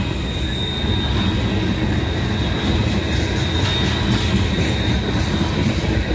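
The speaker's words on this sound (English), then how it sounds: "if y'all hear these wheels squealing too much around here" Continuous high-pitched metallic squealing of train wheels over a steady rumbling roar of rail cars behind an ES44AA locomotive, loud and close, with no pauses.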